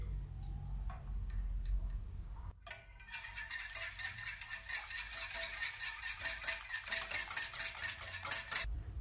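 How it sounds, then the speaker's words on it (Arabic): A whisk or fork beats salt, egg and egg white together in a bowl, starting with a few light taps, then settling into fast, steady rhythmic clicking close by. "نخلطوا هاد الملحه وبيضه وبياض بيضه."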